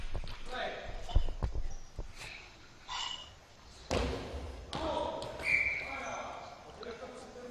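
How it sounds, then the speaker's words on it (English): A ball bounces with a few dull thumps on an outdoor pitch at an SEGL stage event in Espoo, Finland, heard under steady commentary with faint crowd and ambient noise. "Bouncing ball there, going out quite early"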